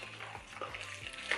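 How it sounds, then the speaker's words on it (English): Butter is stirred into banana cake batter in a home kitchen: soft, rhythmic scraping strokes repeat about three times a second, close and fairly quiet. "And you mix it together"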